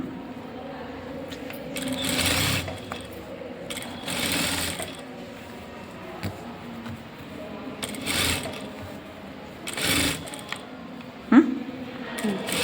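A sewing machine attaches the sleeves of a princess-cut blouse, running in several short whirring bursts separated by pauses, close and clear, with occasional mechanical clicks between the stitching runs.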